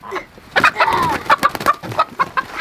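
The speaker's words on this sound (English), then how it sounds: "MiniMe, see if you can catch that chicken." Farmyard chickens cluck in quick, uneven bursts close by as a bird is chased, with squawking and scuffling and no talk over it.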